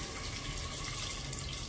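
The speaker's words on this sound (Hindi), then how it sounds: "और ऊपर से डाल देंगे थोड़ा सा इसमें पानी।" A steady stream of water poured into a pot of potato pav bhaji, even and continuous, fairly quiet and close.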